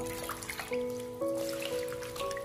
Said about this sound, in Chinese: 我们用淡盐水把韭菜清洗一下，特别是韭菜的根部可能会残留一些泥沙